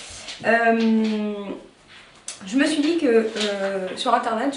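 A bored pet dog whines in long, wavering, high-pitched tones, close by and fairly loud, running through and around a woman's speech indoors.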